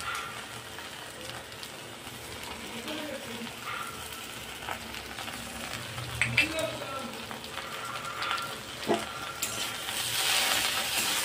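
A ground paste of white mustard, black mustard and black cumin fries in oil over okra in a pan, a low steady sizzle with scraping stirs growing louder toward the end, alongside faint background voices.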